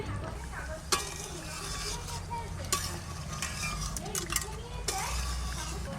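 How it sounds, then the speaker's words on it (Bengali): A metal lid clanks as it comes off a cooking pot of hilsa in mustard paste, with sharp metallic knocks over a steady sizzle and a person talking. "ঢাকনাটা তুলছি।"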